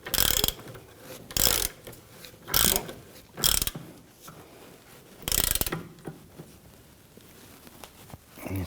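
Ratchet wrench clicking in several quick bursts as it tightens the forward control arm bolt on the rear suspension of a 1999-2004 Jeep Grand Cherokee, close and loud with short pauses between strokes.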